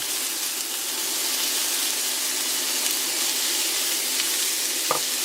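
Onions and bell pepper fry in a pan with a loud, dense, even sizzle that holds steady throughout. A faint clink comes near the end, and no one speaks.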